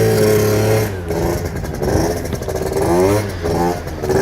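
Piaggio Zip scooter engine with a 17.5 carburettor, 85 jet and open bell intake, revving loudly and roughly with a harsh, blaring exhaust that rises and falls over a steady idle, close by throughout.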